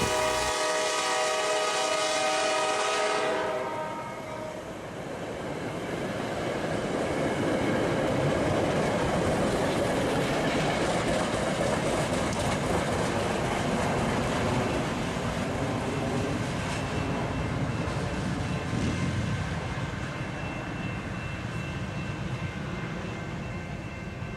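A passenger train horn blares loudly at the start, then an F40PH-4C locomotive roars past with rumbling wheels and rattling cars fading over time.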